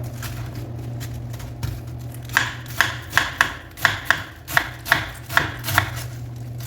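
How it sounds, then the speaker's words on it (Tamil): A knife chops cabbage and potatoes on a board for poriyal: about ten crisp, evenly spaced thuds in a steady rhythm, close up over a low kitchen hum. "இப்போ பாருங்கள் நான் கட் பண்ணுறேன்"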